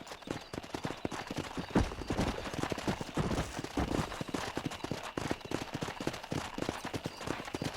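A horse galloping in the Red Dead Redemption video game, rapid rhythmic hoofbeats close up and fairly steady, with occasional brief thuds and no talking.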